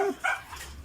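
A dog gives a couple of short, faint barks at some distance, brief yips against a soft background hiss with nobody talking.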